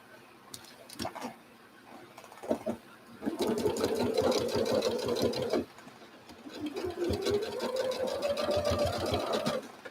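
A sewing machine stitches quilt pieces in two sustained runs of steady, fairly loud whirring, separated by a brief pause with light handling clicks, the motor's pitch rising gently as the second run speeds up.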